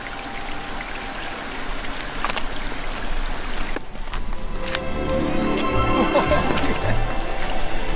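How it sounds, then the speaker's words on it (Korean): Steady rushing water with splashing and pouring, growing fuller partway through, like a waterfall heard from fairly close, in desert country near the Dead Sea in Israel. "저를 이끈 소리의 정체는 시원하게 떨어지는 폭포수"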